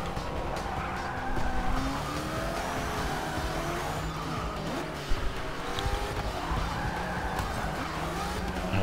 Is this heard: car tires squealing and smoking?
yes